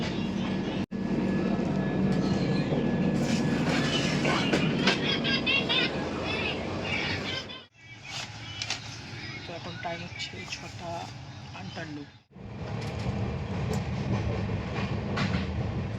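Interior of a 3AC economy coach on the Surat Express (13425) between Malda and Raigarh, with a steady rumbling rail roar and brief dips, while a person talks over the running train.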